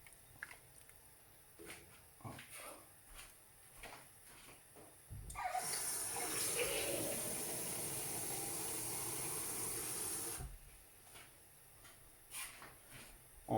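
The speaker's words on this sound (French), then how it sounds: "Alors là, je vais mettre de l'eau." Water poured into a soup pot for Moroccan harira, about three litres going in as one steady, loud gushing pour lasting around five seconds, with quieter kitchen clatter before and after.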